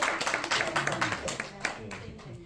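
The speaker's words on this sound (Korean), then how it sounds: "박수 한번 주세요" An audience at a lecture on the travel industry gives a short burst of clapping, heard as quick rhythmic hand claps mixed with a speaking voice.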